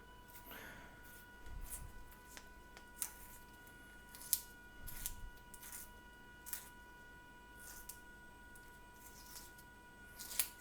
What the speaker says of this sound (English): this little key thing was the way to open these. And you put it on here, and then you turn it.